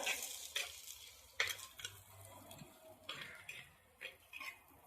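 Crushed garlic sautéing in a clay pot for fish curry, a soft, faint sizzle with a few clinks and scrapes of a stirring utensil against the pot.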